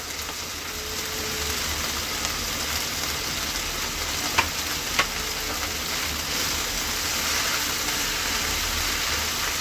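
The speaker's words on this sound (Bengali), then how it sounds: "আমি এবার নেড়ে চেড়ে দিচ্ছি" Okra and egg fry in a pan with salt and turmeric while being stirred, giving a steady close sizzle with a couple of sharp utensil clicks near the middle.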